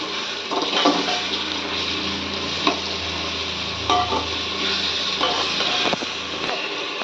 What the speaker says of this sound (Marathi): तर हे सुद्धा तेला चांगलं परतवून घ्यायचे